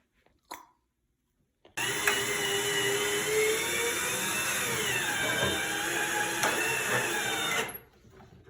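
A power drill driving screws during a bathroom remodel: after a small knock, one continuous loud whine runs for about six seconds, dips slightly in pitch partway through, then stops abruptly.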